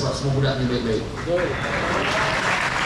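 Applause from a school audience at a motivational religious talk, broad clapping running steadily beneath a man's speech throughout.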